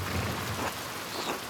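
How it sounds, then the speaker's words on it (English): Steady rain falls in the video game Pentiment, a dense, even hiss of drops on surfaces with a low rumble underneath, continuous and fairly close with no talking. "I hope this rain lets up for you soon."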